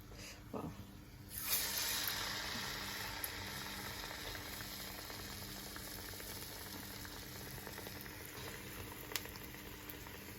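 Small vadas frying in hot oil on a low flame, a steady close sizzle and bubbling hiss that swells as the batter drops in, then holds evenly, with faint clinks now and then.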